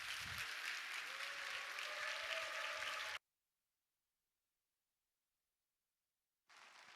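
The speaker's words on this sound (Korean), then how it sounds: "여러분 목사님 나오실 때 큰 박수로 맞아주시기 바랍니다." A church congregation at a Friday Holy Spirit service at Ulsan Dongseong Church claps loudly to welcome the pastor. Dense, steady applause runs for about three seconds, cuts off into silence, then returns near the end.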